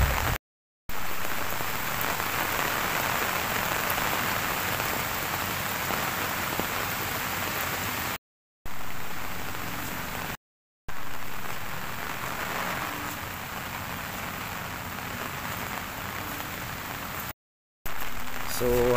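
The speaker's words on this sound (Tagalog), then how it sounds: "pabugso-bugso yung ulan at hindi naman masyado kalakasan" Steady, heavy rain pours during a typhoon, rushing in dense gusty sheets close to the microphone, with brief cuts of silence between segments and faint talk buried underneath.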